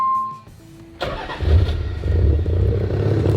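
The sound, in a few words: JDM sports car engine starting for first drive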